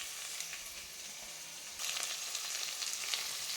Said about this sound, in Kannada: ನೆಕ್ಸ್ಟು ಟೊಮೆಟೊ ಹಾಕ್ಕೊಳ್ತಾ ಇದ್ದೀನಿ.